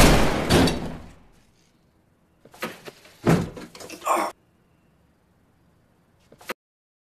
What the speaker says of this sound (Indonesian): Dong Hoon kemudian mengetuk pintu berharap anaknya ada di sana.